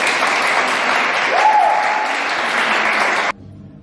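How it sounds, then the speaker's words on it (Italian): A crowd at a Friulian society's 90th anniversary greetings claps loudly and steadily for over three seconds before the applause cuts off abruptly into quiet room tone. "Ok, bel applauso!"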